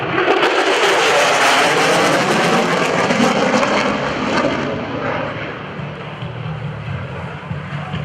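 An F-16 Fighting Falcon fighter jet passes at an airshow heritage flight, a loud, broad jet roar that is strongest at first and then eases slightly as the aircraft moves off, with no talk.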